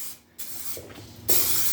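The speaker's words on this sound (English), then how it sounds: "take this Spray Max Clear and lightly mist it first" Spray Max 2K clear coat aerosol misting onto a car headlight during restoration: two close, steady hissing bursts, a short one followed by a pause and then a louder sustained blast.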